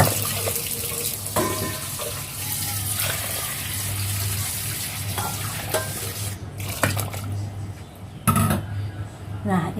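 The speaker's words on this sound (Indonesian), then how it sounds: "Lalu kita tambahkan air 4 mangkok lagi seperti ini." Water poured into a pot while making jujube (red date) tea, a steady splashing flow with some clinking and stirring, close and fairly loud.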